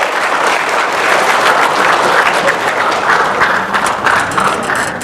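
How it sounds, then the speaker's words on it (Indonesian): An audience at an earthquake-preparedness outreach talk breaks into steady, sustained applause that fills the room for several seconds. "tepuk tangan buat beliau"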